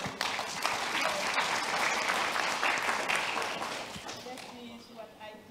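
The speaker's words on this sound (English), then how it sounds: "That deserves a big applause." An audience at an award ceremony bursts into applause, a broad wash of clapping that swells and then slowly fades, with a voice speaking over the tail end.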